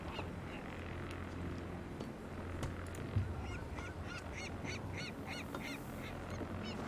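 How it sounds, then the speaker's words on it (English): Ambient birdsong and calls on a very short loop in the Discovery Tour: The Viking Age video game, steady and moderately faint over a low hum, with a brief tapping burst midway. "They are ambient bird sounds on an extremely short loop"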